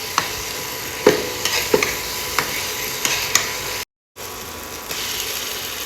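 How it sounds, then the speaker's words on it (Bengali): Onions cooking in a pan on an electric stove for chicken, with a steady sizzle and intermittent scraping stirs and clicks, close and fairly loud, broken by a brief silent gap. "সবার আগে আমি হচ্ছে মুরগিটা রান্না করব, তাই জন্য হচ্ছে প্যানে পেঁয়াজ দিয়ে দিচ্ছি।"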